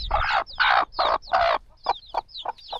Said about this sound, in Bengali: মুরগির বাচ্চা ধরা।